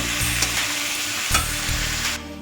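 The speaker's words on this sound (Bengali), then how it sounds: "দিয়ে এবার সবজিটাকে আমি একটু নাড়াচাড়া দিয়ে ভেজে নেব।" Vegetables with potato and a pinch of turmeric sizzle in a hot pan while being stirred, a loud, continuous close-up fry broken by a few scraping strokes of the spatula; no talking.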